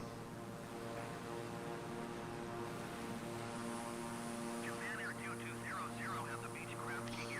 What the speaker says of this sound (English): Oh, that airplane's kind of close to us.